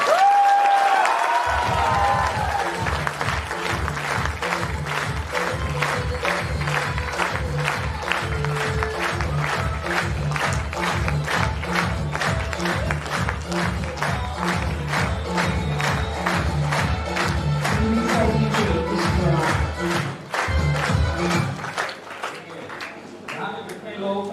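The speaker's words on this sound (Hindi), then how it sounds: "एक बार इन दोनों के लिए दिल खोल के और दिल से ताली बजाएं" A seminar audience at a lifestyle program in Bihar Sharif applauds and cheers loudly for two guests. Rhythmic clapping and crowd noise run on steadily, with amplified music or voices underneath.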